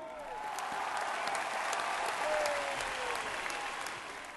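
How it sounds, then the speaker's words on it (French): A French television studio audience applauds to welcome actor Michel Piccoli, a sustained, full crowd clapping that swells slightly in the middle and then tapers. "Tous ensemble, applaudissons Michel Piccoli"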